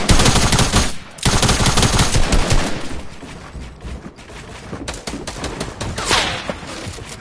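Rapid bursts of automatic gunfire crackle loudly and almost continuously in a shooter video game, with a brief pause near the start and dense overlapping shots throughout.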